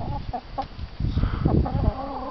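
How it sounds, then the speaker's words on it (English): Chickens feeding near pheasants cluck and chatter close by in short bursts, with a busier run of overlapping clucks in the second half. "here are the curious chickens coming to have a chat with us now"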